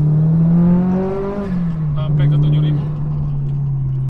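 Stage 3 Subaru WRX STI with an EJ257 engine climbing from second gear toward 7000 rpm, a loud, steady engine drone with a sweeping harmonic rising in pitch, and a person talking over it.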